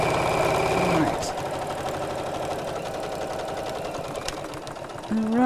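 Domestic sewing machine stitching steadily through Liberty fabric for a chair cushion, a close, even mechanical whirr that pauses briefly while reversing to back stitch, then resumes, with someone talking over it.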